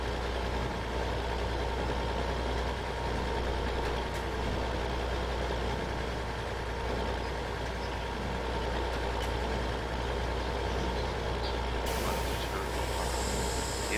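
A vehicle in Farming Simulator 15 drives off, its engine holding a steady, loud, low drone throughout with a brief higher hiss near the end, with no voices.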